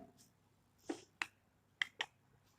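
Classroom claps in a commerce lesson: a few sharp, separate claps rather than one, spaced unevenly in a quiet room, each crisp and near.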